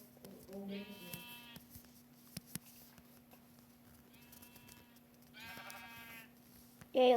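Minecraft sheep bleating in short game-sound bursts, three separate bleats spread across the clip over a quiet, steady background hum, with a brief louder sound at the very end.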